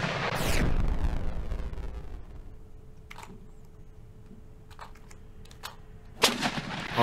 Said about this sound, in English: That sounded like a 25mm gun